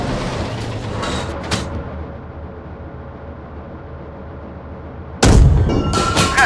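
A tank's main gun fires during an ambush in a PC tank gunner game, a heavy boom near the end after a long stretch of low engine rumble and ambient noise, with a few sharp clanks earlier on.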